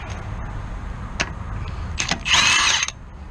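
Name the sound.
power tool removing lug nuts from a 1976 Corvette wheel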